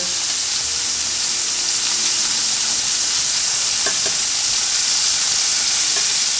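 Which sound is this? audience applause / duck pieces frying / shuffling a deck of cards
duck pieces frying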